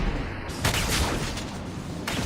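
Heavy gunfire in Mass Effect 2 comes as a loud, dense fusillade of overlapping shots and booms that continues with bursts throughout.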